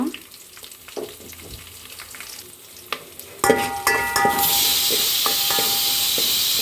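Asafoetida and mustard seeds dropped into hot oil for rasam with dried red chillies: quiet clinks and taps, then a sudden loud, continuous sizzle and hiss that fills the rest of the clip.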